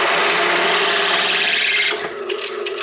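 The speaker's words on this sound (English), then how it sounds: "I'm going to drill" A power drill boring a hole through a metal plate, a loud steady whine close by that runs and then eases off into a lower grinding hum near the end, with no talk.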